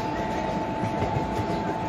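A train rolls steadily in a railway driving video game, with a continuous rumble, a constant whine and faint rhythmic clatter throughout.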